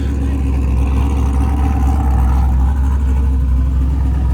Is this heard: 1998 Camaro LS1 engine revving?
yes